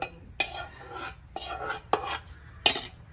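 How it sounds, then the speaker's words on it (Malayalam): A spoon scrapes and stirs palada payasam in a metal pot, making four or five distinct bursts of scraping with short pauses between them. The sound is close and clear over a faint background hiss. "ഇത് ഇളക്കി കൊടുക്കണ്ടേ? ഇളക്കിക്കടാ."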